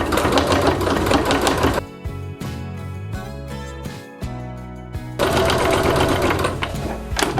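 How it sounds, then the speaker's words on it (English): A sewing machine stitches a quarter-inch quilt-as-you-go seam, loud rapid mechanical whirring in two sustained runs at start and end, broken by a quieter, halting stretch of stop-start stitching in the middle, with no talk. "we're going to stitch it with a 1/4 inch seam from here to here"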